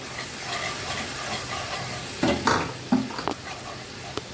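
Ginger, cumin and green chilli paste dropped into a hot frying pan: a constant low sizzle, then a few sharp spluttering bursts and spoon scrapes, close up with no talk.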